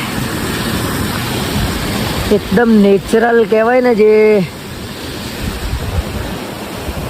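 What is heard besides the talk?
flowing water near paragliding site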